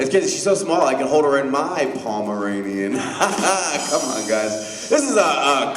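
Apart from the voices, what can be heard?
No distinct noise like a dog, phone or traffic.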